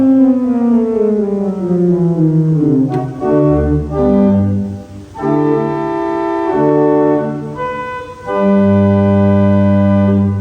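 Sustained tones from a three-manual pipe organ on an open diapason stop, a series of full, steady held chords and notes moving downward, then settling on a loud low chord.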